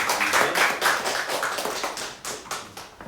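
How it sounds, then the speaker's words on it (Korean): Worshippers in a church clap together for a few seconds, a lively rhythmic patter of many hands at moderate distance that gradually thins out. "여러분들 박수해 주세요."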